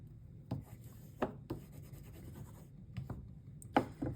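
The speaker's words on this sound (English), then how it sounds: "And I'm not burnishing right on top of the magnets." A tool burnishes paper on a gate fold folio around embedded magnets, with soft rubbing strokes broken by several sharper scratchy swipes, close and quiet.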